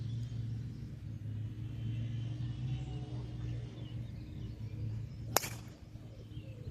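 A golf driver strikes a ball off the tee on the par-4 10th hole at Kilkeel Golf Club, one sharp distant crack rising out of a low steady outdoor rumble.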